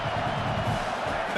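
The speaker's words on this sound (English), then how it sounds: "Big third down as the crowd gets behind this defense." Stadium crowd at a Michigan vs Nebraska college football game roaring behind the defense on a big third down, a dense, continuous wall of cheering heard from within the stands.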